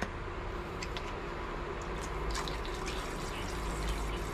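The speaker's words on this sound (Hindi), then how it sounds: "इस टाइप से हमें डालना है सब सेलों में।" Liquid is poured into car battery cells, making a steady, close splashing trickle that runs continuously throughout.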